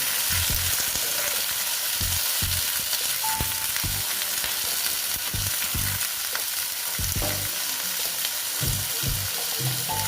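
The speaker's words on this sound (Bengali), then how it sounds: "তারপরে দিয়ে দিচ্ছি মিষ্টি কুমড়ো, দিয়ে একটু নেড়ে চেড়ে দিচ্ছি।" Pumpkin pieces being stirred in a hot pan, a steady close sizzle of frying broken by repeated scraping strokes of the spatula throughout, with no talking.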